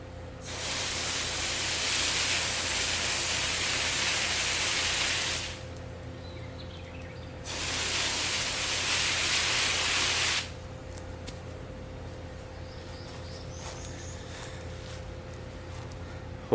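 Water spray rinsing soil off the roots of one-week-old Roma tomato clones: two bursts of steady, close hissing spray, about five seconds and three seconds long, with a quiet pause between them and no talking.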